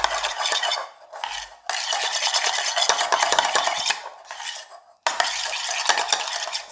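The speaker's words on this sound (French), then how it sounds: "Donc tu mélanges." A spoon stirs an avocado and shrimp verrine filling with crème fraîche in a bowl, making scraping, clinking strokes in bursts separated by brief pauses, with no talk.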